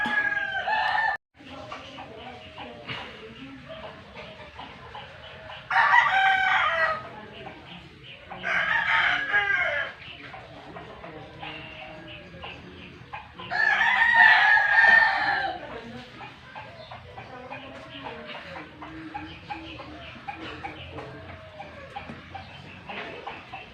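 Several roosters crow in loud bursts while sparring, against a background of clucking and chicken noise, with a brief gap early on, in Mendez, Cavite.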